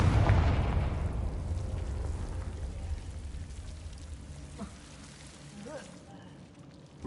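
A Confringo spell blast in the Hogwarts video game bursts out with a deep, loud boom, then trails off into a long rumbling, crackling decay with small scattered debris sounds fading toward the end.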